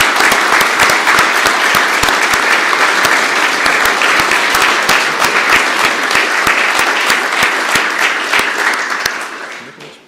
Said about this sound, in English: Can we have a great round of applause for our 4 new police officers?